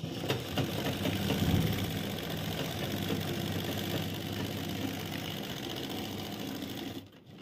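A sewing machine runs steadily, stitching along the edge of a pant cross pocket's piping, a continuous close mechanical whir with a slight surge early on that stops abruptly near the end.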